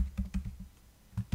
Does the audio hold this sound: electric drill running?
no